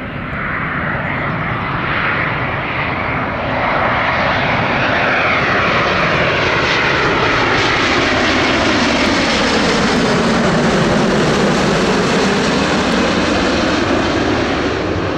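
A Finnair Airbus A350-941 jet, registration OH-LWE, lands at London Heathrow on a sunny day, its engines a loud, continuous roar with a slowly sweeping pitch as it passes close by.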